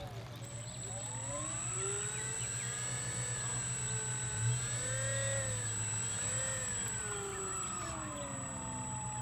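Dynam P-47 Thunderbolt RC warbird's electric motor whines steadily through a taxi test, its pitch rising and falling in smooth sweeps over a constant high tone and low hum, moderately loud and close with no talk.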